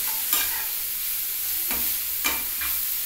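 Grated papaya with spices frying in a wok for a Bengali dhoka dish, a steady sizzle broken by a few sharp scraping stirs of a spatula, close up and with no talking.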